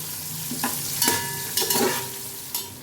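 Washed rice and salt go into golden-brown fried onions in a pot for chicken biryani, giving a soft continuous sizzle broken by several scraping stirs and metallic clinks close by.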